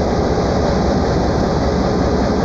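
A stopped train idles at a railway crossing, giving a loud, steady rumbling drone close by with no talking.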